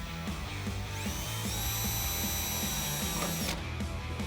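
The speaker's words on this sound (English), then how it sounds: "Then we can take a 1/4 inch drill bit and drill a pilot hole." Power drill running a 1/4 inch bit through a pilot hole while fitting tubular fender flares on a Jeep Wrangler JK; a loud, steady motor whine holds throughout with a brief pitch shift near the end, and no voices.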